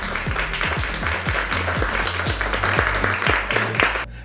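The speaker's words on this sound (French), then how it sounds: "On peut applaudir nos deux invités qui sont là." Dense crowd applause with a steady rhythm of claps filling the room, continuing evenly for a few seconds before stopping abruptly.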